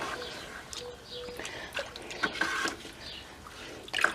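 Concentrated comfrey liquid full of muck gets stirred in a bucket, giving faint, scattered watery sloshes and drips at close range with some quiet background ambience.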